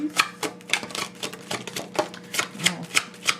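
Deck of message cards being split in half and handled, a quick series of crisp papery flicks and taps in an irregular rhythm, close and fairly clear, no talking.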